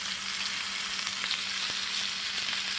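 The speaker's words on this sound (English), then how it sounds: "So you're going to put enough butter on there just where it's going to be searing" Chuck roast sears in butter in a hot pan, giving a continuous bright sizzle and crackle with occasional pops, loud and close, with no talking.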